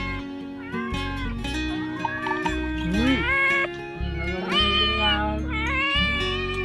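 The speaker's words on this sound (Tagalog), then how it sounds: "Meow ng miming." A cat meows over and over in long, wavering, insistent cries that rise and fall in pitch, loud and close, with short pauses between the calls.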